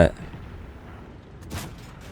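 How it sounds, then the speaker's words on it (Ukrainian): Tank guns fire in the video game World of Tanks: a sharp blast at the start, then a second boom about one and a half seconds later, over a quiet background. "От перший постріл погано стрельнув, другий постріл також погано стрелів."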